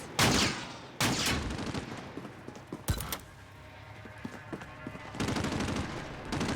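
Rapid gunfire fills a Call of Duty: Modern Warfare (2019) firefight, with loud bursts of automatic fire and sharp single shots over a constant battle din, close up and continuous.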